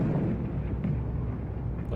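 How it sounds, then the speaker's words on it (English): Archival World War II carpet bombing explodes in a low, continuous rumbling roar of distant blasts, with dull thuds blending together at moderate volume and no voices. "Just dropping bombs. Just carpet bombing everything."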